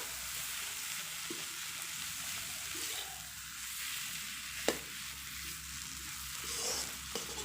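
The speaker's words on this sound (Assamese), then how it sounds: "এইখিনি মই ভালদৰে এতিয়া লৰাই দিওঁ।" Potatoes frying for a fish curry with noltenga and kawai fish, stirred in a pan; a continuous soft sizzle with occasional sharp utensil knocks against the pan, no voices.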